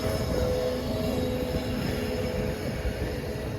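A steady low rumble and rattle of a train rolling along a railway track beside farm fields, continuous and fairly close, with no voices.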